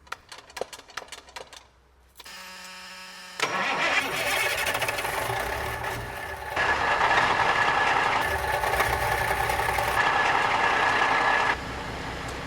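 An old revived truck engine cranks and fires up, then settles into a loud steady idle that surges as it is shifted into gear, with sharp clicks and mechanical clatter before the start.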